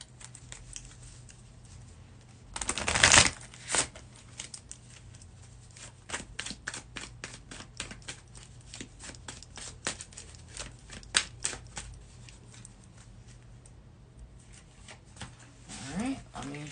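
A deck of cards shuffled by hand, with one loud riffle burst near the start followed by a long run of quick, soft flicking taps and a few brief voice sounds in the background.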